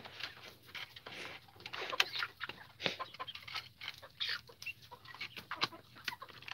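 Chickens in an outdoor chicken coop cluck and squawk in irregular bursts, fairly close and moderately loud, with short quiet gaps between calls.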